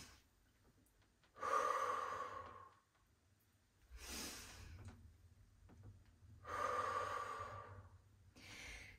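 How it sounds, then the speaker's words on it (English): A deep breath drawn in and let out before a bodyweight squat during an exercise session, a few airy inhales and exhales repeating at moderate volume, close and alone without talk. "I'm gonna take a deep inhale"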